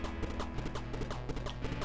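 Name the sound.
horse hooves clip-clopping in the video game Gunsmoke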